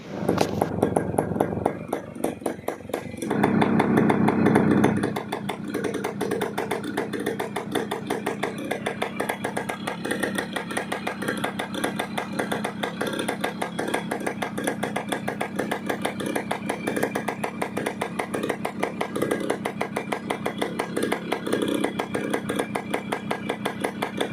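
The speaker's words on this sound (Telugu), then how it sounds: "ఇంజన్ స్టార్టింగ్లో పెడతాను చూడండి" A 1999 Suzuki Samurai engine cranks and catches in the first few seconds, then settles into a steady, loud rhythmic idle that continues evenly to the end.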